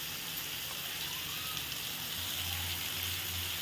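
Potato and pumpkin pieces fry in oil with salt and turmeric, giving a steady, close sizzle that holds evenly throughout with no talking.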